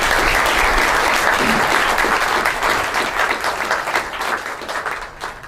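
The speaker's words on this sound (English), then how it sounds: "Let's give them another round of applause." Crowd applause for soldiers standing in formation at a military brigade ceremony, sustained clapping from many people outdoors that starts full and gradually thins and tapers off.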